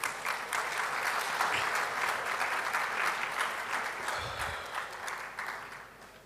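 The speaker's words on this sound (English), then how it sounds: "Shall we please applaud KNUST?" An audience at a KNUST public lecture claps steadily for several seconds, a dense, even applause that gradually tapers toward the end.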